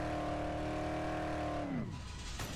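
Engine of a car driven in the zombie game Dead Island, a steady droning hum that drops in pitch as the vehicle slows near the end, heard alone with no talk.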